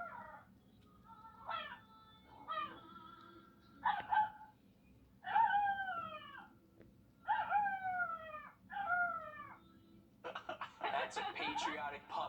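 A 14-week-old American Cocker Spaniel puppy howls along to the national anthem in repeated rising, wavering yowls over a low musical backdrop, ending with a brief laugh and a voice speaking.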